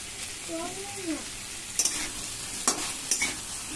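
Chilli paste masala frying in a pan for a hilsa fish curry gives a soft steady sizzle, with a few sharp spoon scrapes and clinks as it is stirred.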